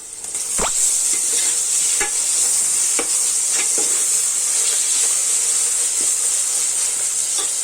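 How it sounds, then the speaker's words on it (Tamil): Vegetables and meal maker sautéing in oil in a pan, with a steady close sizzle and hiss and a few sharp stirring knocks. "எல்லாமே சேர்த்துட்டு நல்லா வதக்கி விடணும்."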